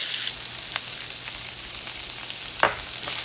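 Sisig and chilies sizzle in an Instant Pot, a steady quiet hiss with a few soft stirring scrapes and one brief louder clatter near the end.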